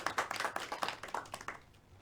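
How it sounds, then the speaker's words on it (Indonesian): Students in a history microteaching class clap for a classmate, a short burst of brisk hand claps that fades out after about a second and a half, fairly quiet. "Beri tepuk tangan buat teman kalian."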